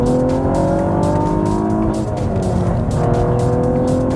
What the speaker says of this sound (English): Listen to that V6.